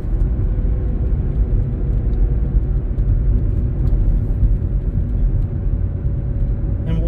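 A car drives along a road crossing a small dam at the end of a lake in Keystone State Park, Derry, Pennsylvania, giving a steady, close, low rumble of engine and tyre noise throughout, with no talking.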